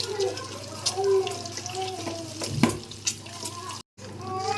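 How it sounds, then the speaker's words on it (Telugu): Four boiled, peeled eggs coated in turmeric fry in oil, giving a low, soft sizzle with a few stirring clinks. Speech runs over much of it, and there is a brief gap near the end. "ఈ 4 గుడ్లు ఆయిల్లో బాగా ఫ్రై అవ్వాలి"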